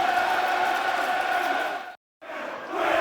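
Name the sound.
Millwall crowd reacting to goal against Leeds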